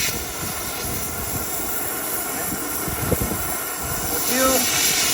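A Cabrillo oxy/fuel torch turned up high gives a steady broadband roaring hiss that grows slightly louder toward the end, close and continuous.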